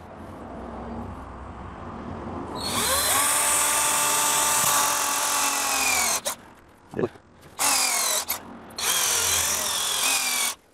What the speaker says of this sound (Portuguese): Eu estou fazendo esse pré-furo com uma broca de 5 milímetros.